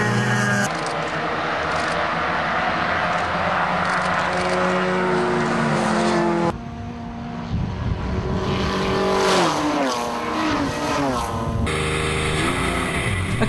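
Touring cars, including a Mazdaspeed 3, roar past in a pack during a race at Thunderhill. Engines drone loudly and continuously, with rising and falling pitch as cars pass, under a race commentator's voice.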